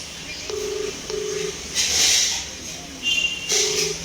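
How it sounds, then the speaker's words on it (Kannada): A telephone ringback heard after dialing a number: short repeating ring tones in pairs, clear and steady, with brief bursts of hiss and handling noise between them. "ರಿಂಗ್ ಆಗ್ತಾ ಇದೆ."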